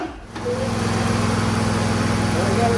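A John Deere LA145 lawn tractor engine catches after a primed start and settles into a steady, loud, close idle with a low rhythmic throb.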